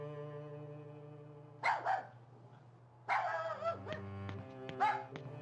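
A dog barks in the video game Rule of Rose, three short bursts of one or two barks each, spaced apart over a soft sustained musical drone.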